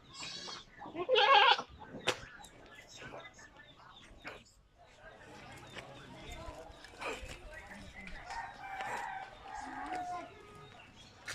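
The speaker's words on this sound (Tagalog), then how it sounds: "Ito yung kambing." A goat bleats loudly up close in a short burst near the start, then farmyard noise with fowl sounds and people talking continues through the rest.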